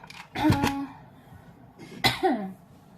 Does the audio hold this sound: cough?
yes